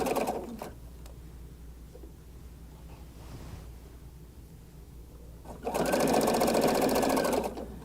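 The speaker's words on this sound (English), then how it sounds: "So I'm just going to sew that sleeve." A sewing machine stitches a fabric sleeve seam, with a short buzz at the start and then a loud, fast, steady whirring run near the end, separated by a quiet pause.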